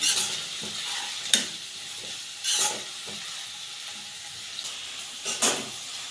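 Banana flower stir-fry with salt and turmeric stirred in a hot pan: a steady soft sizzle with periodic scraping strokes of a spoon, close and unhurried, with no one talking.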